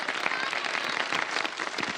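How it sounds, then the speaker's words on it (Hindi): Studio audience applause on the Ramazan show Shan e Ramazan, a dense, steady wash of clapping with a little voice sound mixed in. "इफ्रा और फयाज अहमद के लिए बहुत सारी तालियां बजा दें भाई।"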